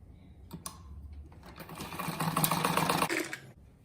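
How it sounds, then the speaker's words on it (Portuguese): Sewing machine running as it stitches fabric patchwork squares for a rag rug, a steady mechanical whir at close range that starts after a few clicks and runs for about two seconds before stopping. "agora eu ponho assim e já vou ali na máquina e já passo outra costurinha aqui já."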